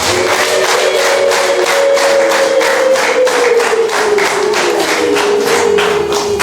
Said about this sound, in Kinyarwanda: Dukomere Imana amashyi cyane